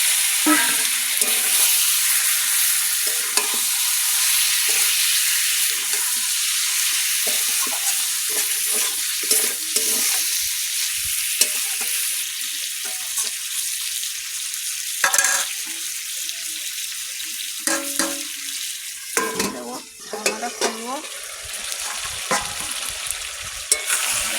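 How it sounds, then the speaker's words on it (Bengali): Chicken meat frying in spice masala in a pan, a loud, steady close sizzle with intermittent stirring scrapes and bursts of spattering, running unbroken without talk. "সুন্দর মশলাটা হয়ে গেছে মাংসটা দিয়ে দিচ্ছি"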